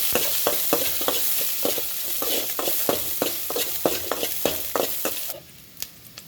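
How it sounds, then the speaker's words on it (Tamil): Mustard seeds crackle and splutter in hot oil in a pan, a steady dense sizzle broken by sharp popping bursts. The frying goes on close and loud with no talk, then quiets abruptly near the end. "கடுகு வந்து நல்லா பொரியட்டும்"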